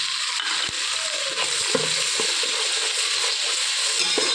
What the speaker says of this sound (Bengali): একসঙ্গে মশলাটার সঙ্গে চিংড়ি মাছটাও ভেজে নেব ভালো করে